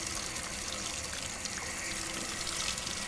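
Rainwater from a roof gutter pours through a small hydro-electric generator, a continuous loud rushing, splashing wash with steady intensity and no pauses, close to the microphone.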